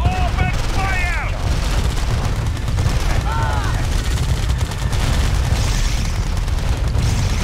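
Dense gunfire and booming explosions in the real-time strategy game Red Alert 2, a continuous loud barrage of shots and blasts with unit voices and chirps mixed in.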